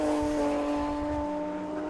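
Saloon and sports cars braking into the hairpin at Knockhill circuit, engines droning with steady tonal whine as they slow, fairly close and continuous.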